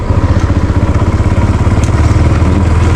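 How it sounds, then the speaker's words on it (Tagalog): A motorcycle engine runs on a farm, close and loud, with a steady throbbing, slightly clattery idle that continues throughout with no pauses. "Kilala nyo yung motor ko"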